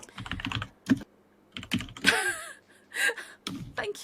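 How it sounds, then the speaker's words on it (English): Bursts of computer keyboard typing come in quick clusters with short pauses between them, close and clear, with a faint breath or gasp near the middle and no talk. "I'm just typing it in chat."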